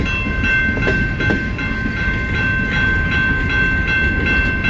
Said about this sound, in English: this has got to be seeing M482 northbound train